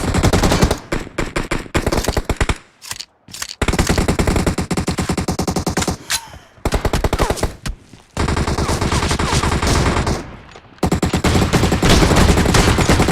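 Video game gunfire with an M1014 shotgun, a dense, loud run of rapid shots and bursts broken by a few short pauses.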